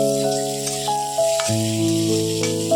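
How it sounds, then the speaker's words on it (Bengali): Potatoes frying in oil in a pan, a close steady sizzle with bubbling crackle running throughout and no talk. "তেল দিয়ে দেখো আলুটা ভাজা বসিয়ে দিয়েছি"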